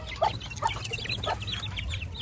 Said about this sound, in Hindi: ये मुर्गी है और इसके अंदर बच्चे हैं।